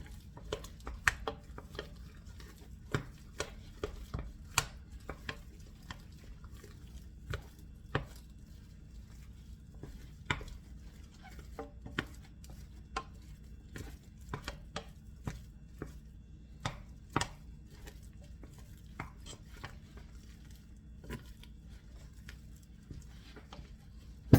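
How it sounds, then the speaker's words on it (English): A wooden spoon working around a hot pot with melting butter while steaks and truffle potatoes are cooked, making scattered sharp knocks and scrapes against the pot at an irregular pace over a quiet background. "Stir it around with a wooden spoon."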